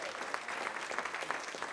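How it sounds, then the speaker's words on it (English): Brief burst of audience applause at a stand-up comedy show, a dense patter of many hands, fairly faint and distant. "Give yourself a round of applause for that"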